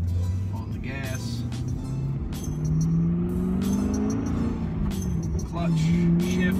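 A manual stick shift car accelerating through its gears, engine rising and dropping in pitch between shifts, moderately loud and near, with a person talking over it.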